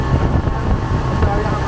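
A motorboat runs across Laguna de Apastepeque, its engine a steady low rumble mixed with wind buffeting the microphone, close and fairly loud throughout the short stretch.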